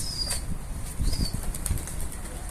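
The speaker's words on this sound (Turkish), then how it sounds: "Kuşları zıplat." Pigeons flap their wings on a rooftop in a few quick, close bursts of fluttering, with faint bird chirps in the background.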